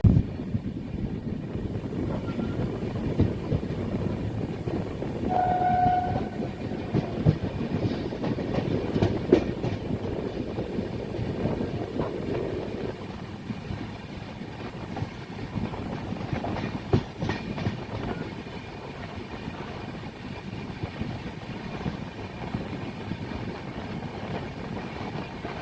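Marathwada Sampark Kranti Express running from Nanded, heard as a steady rumble with clickety-clack from the rails and rattling carriages, plus a brief tone near the start, with no talking throughout.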